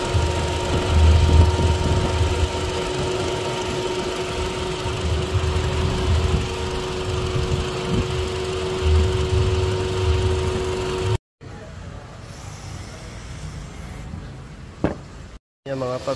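A Kia Soul engine idles roughly with a misfiring ignition coil, a loud steady drone with uneven low thumps for about eleven seconds before dropping out, then quieter intermittent noise with a voice murmuring.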